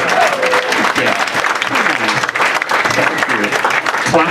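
Clapping from a comedy and poetry club audience fills the room, with a voice talking over the continuous applause.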